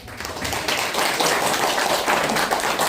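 An audience claps warmly at a business gathering, a continuous patter of many hands holding steady for the full stretch with no talk over it.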